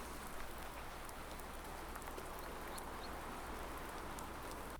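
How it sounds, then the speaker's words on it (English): Steady, dense rain falls across the whole stretch in Farming Simulator 19, an even wash of patter with no breaks and no voices. "And we're getting more rain, just as the forecast said we would."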